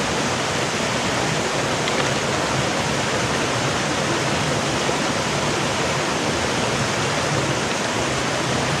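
A river flowing steadily near a forest waterfall in Subang, with a dense, continuous rush of water filling the scene at close range and no talk over it.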